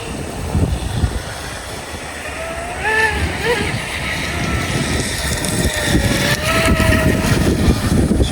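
A radio-controlled boat motor runs on water at about quarter throttle, a thin whine rising and falling over steady splashing and rushing noise, with someone talking nearby.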